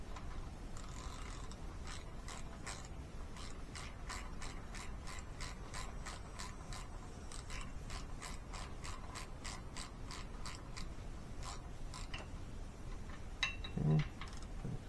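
A ratchet wrench tightening bolts evenly on a 5.3 LS engine, with a long run of rapid pawl clicks close up and a few short pauses between strokes.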